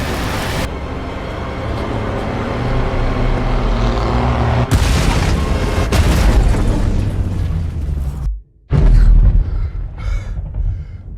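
Bombs dropped by a robot on a racer in an action film burst in a loud, continuous barrage of booming explosions, broken by a brief silence before a final heavy blast.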